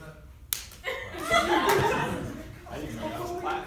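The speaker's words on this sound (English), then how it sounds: "I didn't know that was a clap." A single sharp hand clap on a stage at a comedy show, followed by chuckles and laughter from the audience and performers.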